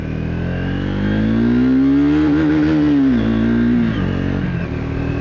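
A Triumph 400 modern classic motorcycle engine revs up close, its pitch climbing to a held peak, dipping briefly, then easing back down toward idle, loud and alone.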